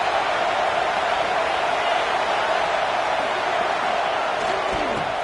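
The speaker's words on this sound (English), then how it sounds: "And here comes the noise. This crowd is trying to inspire this defense to make a big red zone stop." Dense, continuous roar of a stadium crowd in a college football video game, a steady wash of massed voices at constant loudness throughout, with a faint commentator voice beneath.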